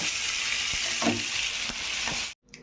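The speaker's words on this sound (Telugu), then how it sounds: "ఇంకైతే వేగిందండి, బాగా ఫ్రై అయింది" Spicy fish pieces fry in a pan with a dense, steady sizzle and a few faint stirring clicks, then the sound cuts off abruptly into near silence.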